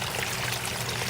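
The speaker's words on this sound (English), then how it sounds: "My little waterfall pond is doing well" Water pours steadily over a small garden waterfall into a goldfish pond, a close, continuous splashing stream with no break.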